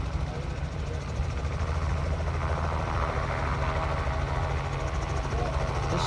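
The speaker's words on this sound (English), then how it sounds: "This copter has not turned off since I got here at 10:30 this morning." A helicopter engine runs continuously at a steady drone, a constant low rumble and whine holding at even loudness throughout, with faint voices and outdoor background mixed in.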